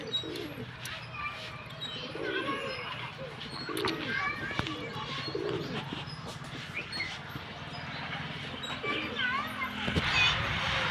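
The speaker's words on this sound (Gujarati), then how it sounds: "કબૂતર બોલે છે." A white pigeon coos repeatedly in low, soft phrases amid other bird calls and background activity, with people talking nearby throughout.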